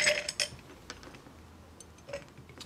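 A bar spoon clinks against a mixing glass while stirring a cocktail with sugar syrup, giving a few light, bright taps spaced irregularly across the moment, close and quiet.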